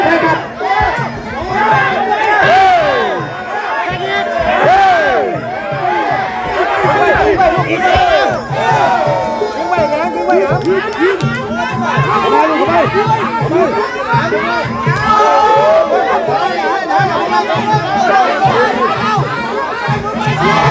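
At a women's Muay Thai fight in southern Isan, Thailand, a loud crowd cheers and shouts without pause, voices rising and falling in excited waves of chatter and battle cries.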